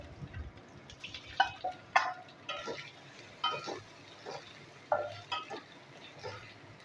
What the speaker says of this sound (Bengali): এই মশলার মধ্যে পটলগুলো আমি আবার নাড়িয়ে নেবো